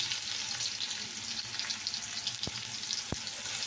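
Oil sizzles and fries steadily in a pan after salt and turmeric go in, a dense continuous crackle at moderate level with a couple of sharp taps near the end. No voices.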